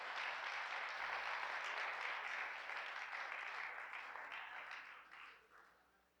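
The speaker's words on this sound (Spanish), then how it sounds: "Así que dele aplauso al Señor." A church congregation applauds the Lord in a steady, dense wash of clapping that holds evenly, then gradually thins and fades toward the end.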